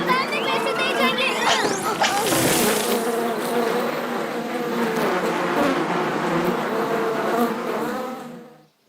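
Bees buzz loudly and continuously in an animated Hindi children's story about a bear and honey, a dense droning hum with shifting pitch, while childlike voices speak and chatter over it.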